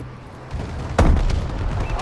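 Bombing run explosions in Call of Duty: Advanced Warfare land with a heavy boom, then a rumbling blast and a sustained roar of detonations close by; nobody speaks.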